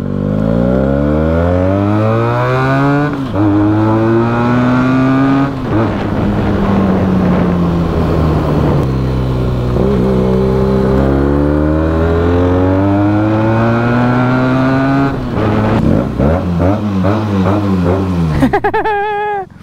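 A motorbike engine runs continuously and close by, its droning pitch rising and falling as the revs change, with wind rushing across the microphone throughout.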